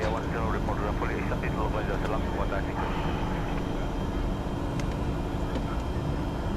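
Challenger 605 business jet engines at climb thrust during take-off, a steady, loud broadband roar with an even, unbroken drone throughout, with faint speech heard under it.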